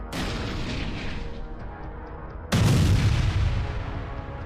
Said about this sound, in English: a Russian T-80 tank was hit by a Ukrainian Javelin anti-tank missile